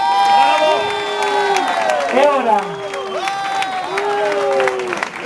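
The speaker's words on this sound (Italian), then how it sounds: "Adesso ci vuole l'applauso." Audience at an awards ceremony cheering and shouting with applause underneath, many voices rising in excited whoops and calls close by, continuous and loud throughout while someone speaks briefly.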